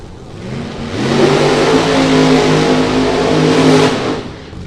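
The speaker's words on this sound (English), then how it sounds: "And Kirk Williams doing the burnout." A funny car drag racing burnout, a loud, close engine roar that swells quickly, holds a harsh sustained howl for a few seconds, then begins to fade.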